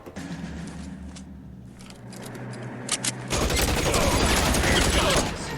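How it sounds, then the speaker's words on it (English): Machine gun fire in L.A. Noire erupts midway, a dense, loud stream of rapid shots after a quieter stretch with scattered single shots and faint voices. "He's got a machine gun."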